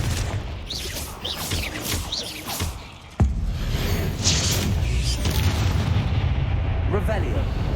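Confringo blasting spells in Hogwarts Legacy go off as loud booming explosions, with a sharp blast midway followed by sustained rumbling, under a spoken voice.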